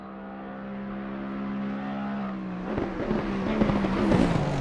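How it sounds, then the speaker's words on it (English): A Lexus race car engine at the 6 Hours of Spa drones steadily with a falling pitch, then turns rougher and louder with crackling bursts as it slows and shifts near the end, heading into the pit. "The sound of the Lexus when he's going for the pit."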